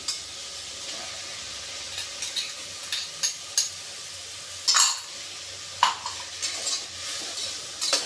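Tomatoes frying on a high flame for bisibele bath, with a soft continuous sizzle beneath intermittent utensil clinks and scraping stirs against the pot, close and moderately quiet.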